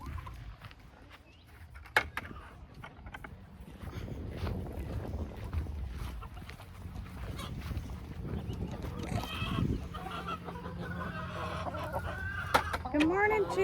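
A flock of backyard chickens clucks and murmurs close by in a garden coop at feeding time, with soft scattered calls, rustling and a few brighter squawks over a low background.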